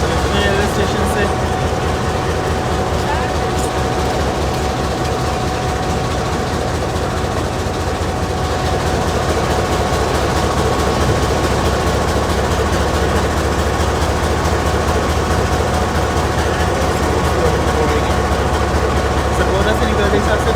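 The Chenab Express train pulls out of Sargodha railway station, a steady low diesel engine drone with rhythmic rumbling throughout, loud and close, while someone talks over it.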